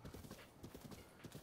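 Horse hooves clip-clopping in the video game Zelda: Breath of the Wild, a quick, steady rhythm of soft thuds as the horse moves along, fairly quiet.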